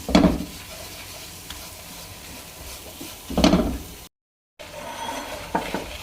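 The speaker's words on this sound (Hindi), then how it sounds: "आप ये मक्खन में इसमें मैदा डाल दें 3 चम्मच और इसे फ्राई कर लें" Flour frying in butter in a pan over low heat gives a steady soft sizzle, broken by a few louder scraping stirs of a spoon against the pan, close up with no voices.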